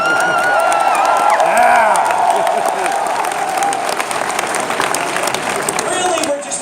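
A large audience at a book event claps steadily for several seconds, a dense wash of applause with scattered cheers and voices mixed in.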